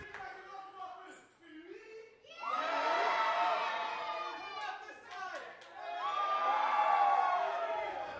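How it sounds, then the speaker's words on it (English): Wrestling crowd at an APW championship match cheering and whooping in two loud surges after a quieter start, with shouts and some children's voices mixed in. "Crowd's behind him now."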